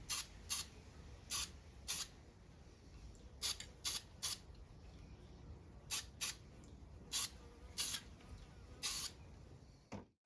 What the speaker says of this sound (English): I'm using a dark grey spray paint